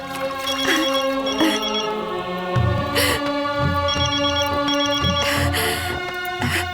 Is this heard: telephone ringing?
yes